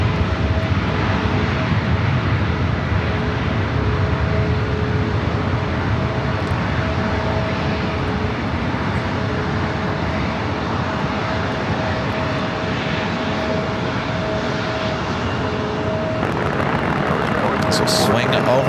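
ANA Future Promises Streamliner airliner waiting for takeoff on the north side of an airport, with a continuous loud jet engine roar and a steady whine throughout and no clear breaks.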